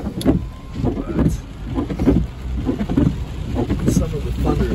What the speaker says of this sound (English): some of the thunder is super loud, so it's gotta be super close, really close to us